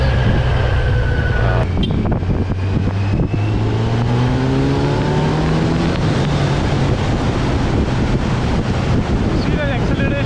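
A 2020 Kawasaki Z900 motorcycle accelerating hard in fourth gear, its exhaust note rising steadily in pitch under heavy wind roar, loud and close throughout.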